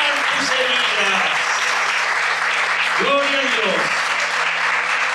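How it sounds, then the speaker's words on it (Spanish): A church congregation applauds in a dense, steady wash of clapping that fills the whole stretch while a voice calls out over it. "Dale un aplauso a nuestro Señor"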